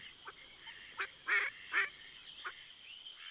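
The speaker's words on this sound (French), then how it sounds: "C'est une mare où se baignent quelques canards." A few ducks call from a small farm pond in the countryside, a handful of faint, nasal quacks spaced irregularly over quiet background.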